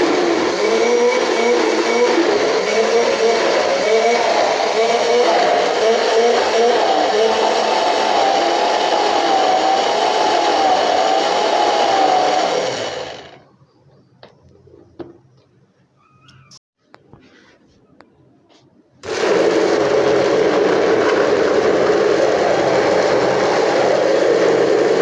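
An electric grinder crushes garlic into paste, a loud, close, continuous whirring roar that cuts off for several seconds of near silence with faint handling noises, then starts up again just as loudly.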